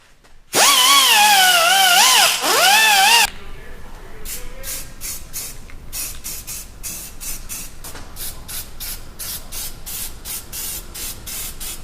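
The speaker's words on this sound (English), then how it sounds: "Now go ahead and deburr these edges and prime and paint." A power tool deburrs cut steel edges during a Toyota Tacoma coilover lift installation, starting with a loud, whining grind of about three seconds, then a quieter stretch of rapid, rhythmic bursts of tapping and scraping.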